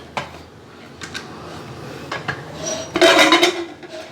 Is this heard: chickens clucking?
no